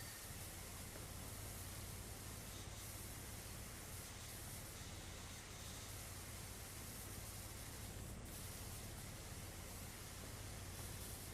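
Steady, dense spray hiss of a pressure washer in PowerWash Simulator runs continuously and evenly throughout, with no talk over it.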